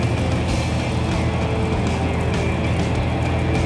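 Twin-turbo Bentley engine rumbling steadily and loudly from close by as the car is put into gear, a dense continuous drone with no voices.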